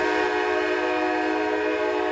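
Train horn blasting continuously in downtown San Diego near the Santa Fe Depot, a loud, steady multi-tone chord held without a break, close and alone with no voices.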